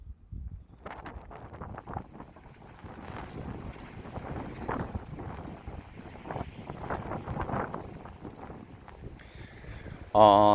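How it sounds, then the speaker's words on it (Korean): Wind buffets the microphone on the Geumodo island coast at night, a steady rough rumble with gusts that swell and fade for about ten seconds, ending in a brief louder burst. "지금 이제 바람 소식도 있어서 조금씩 느껴지실 거예요"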